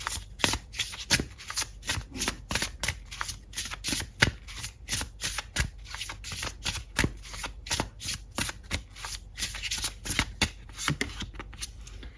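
A golden tarot card deck being shuffled by hand: a rapid, steady run of crisp riffles and card slaps, close and loud, repeating throughout with no talk.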